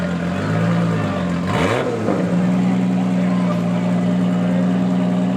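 A Toyota pickup makes a drag racing pass down the track, its engine pitch sweeping up and changing mid-run before settling into a sustained high drone, with a commentator talking over it.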